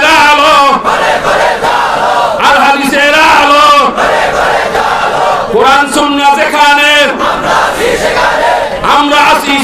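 A large crowd at an outdoor Islamic religious gathering in Dhaka shouts amen and takbir in unison in answer to a preacher, the loud, chant-like bursts rising and falling in waves.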